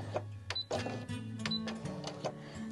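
A sewing machine stitches carefully along a fabric edge, its motor whirring in short runs with rhythmic needle clatter and brief pauses between bursts, close and moderately loud with no talk.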